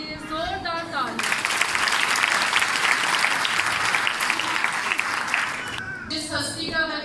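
Loud, sustained applause from a seminar audience at St. Ignatius Parish, Samanabad, held for International Women's Day, lasts about five seconds. A voice comes just before it and again as it fades.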